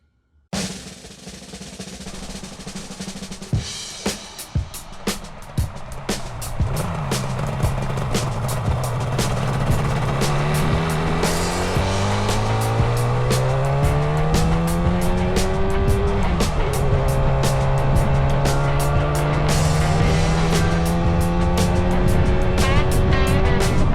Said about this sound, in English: I think I can push it out and start it up.